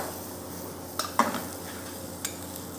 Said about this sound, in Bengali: লাল চালটাকে হালকা একটু পেঁয়াজ আদা রসুনের যে ইয়াটা আছে, ভাজাটা আছে, সেটার সাথে একটু হালকা একটু টস করে নিব।